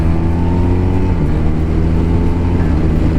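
A BMW R1250RT touring motorcycle engine accelerates on an open road, a loud, steady, close drone with rising harmonic tones and no talk over it.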